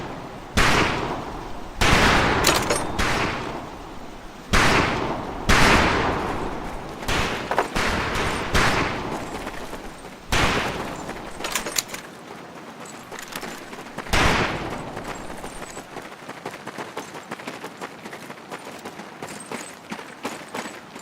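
Rifle gunfire at a shooting range during training in Medal of Honor Pacific Assault, a World War II game: loud, sharp shots spaced roughly every one to two seconds, some in quick pairs, ringing out over a low ambient bed.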